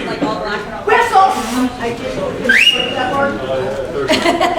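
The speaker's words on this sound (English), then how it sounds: "You asked for a whistle." A person gives a short rising whistle amid a lively crowd at a main event in Frisco, with chatter and talk around it.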